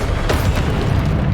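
The Incendio fire spell cast in Hogwarts Legacy makes a loud, dense whooshing burst with a deep boom, filling the moment with roaring fiery noise and no clear pauses.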